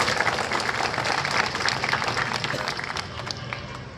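An audience claps steadily to welcome civil defence volunteers at a Home Guard foundation day parade event in Indore, sustained dense applause that tapers slightly toward the end.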